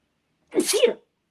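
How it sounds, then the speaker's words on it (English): A single sharp sneeze, close and fairly loud, bursting out once and ending quickly with silence before and after. "That was a real sneeze, right?"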